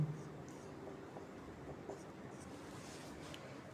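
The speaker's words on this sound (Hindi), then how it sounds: "चलो यहाँ लिखते हैं, यहाँ से" Chalk or marker writing on a board during a maths lesson on matrix multiplication, with faint intermittent scratching strokes under low room noise and a voice nearby.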